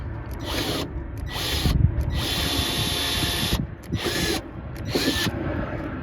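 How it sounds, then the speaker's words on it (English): A power drill whines in several bursts with short pauses between, close and loud, drilling a hole through a sailboat with a ratcheting edge. "Start out with a small bit and get wider if I need to. Drill a hole all the way through."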